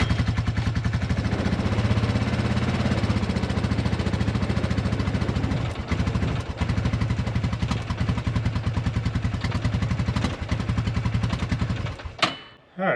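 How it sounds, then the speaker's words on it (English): An Arctic Cat 300 4x4 ATV engine idles a little low with a rapid, steady, close mechanical chug, briefly faltering around the middle and cutting out at the end. "Idle's a little low, but at least it's not high."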